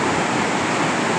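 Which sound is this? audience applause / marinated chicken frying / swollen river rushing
swollen river rushing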